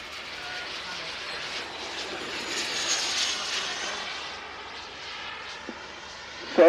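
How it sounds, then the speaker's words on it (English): Model jet aircraft with a turbine engine flying at an outdoor air show, a steady rushing whine that swells as it passes and then fades, fairly distant, with a brief knock near the end. "at the moment they're using the thrust of the turbine, pushing around the sky"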